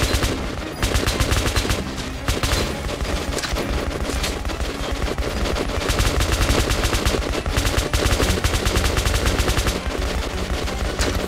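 Gunfire in the video game Metro Last Light: rapid automatic bursts and repeated shots in close succession over a dense, loud combat soundscape.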